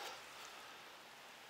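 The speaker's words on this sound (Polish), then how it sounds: "deszcz pada" Steady rain patters outdoors during a fishing outing, a dense, even hiss with no breaks and no voices.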